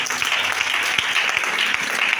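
A congregation applauds at a French-language church service, a dense, loud, continuous wash of clapping from many hands.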